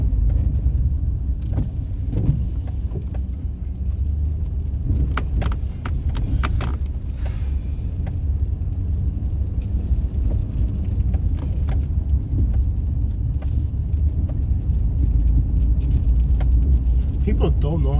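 A car rolling over cobblestone streets in an East St. Louis neighborhood, heard from inside: a steady low engine and road rumble with irregular light rattles and bumps, while people talk throughout.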